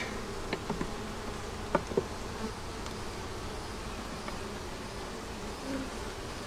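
Bees buzz continuously around a nuc hive, a soft steady hum with a few closer individual bees flying past the microphone.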